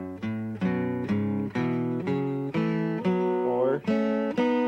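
Guitar scale played with double stops on the first and second strings, moving through a steady sequence of about nine plucked two-note chords, each ringing briefly before the next, clear and close with no talking.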